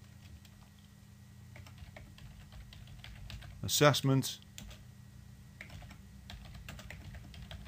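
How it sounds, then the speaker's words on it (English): A few quick clicks on a computer keyboard while someone talks, forming a short cluster of sharp taps in the middle of otherwise quiet speech. "I'm going to type in student ID"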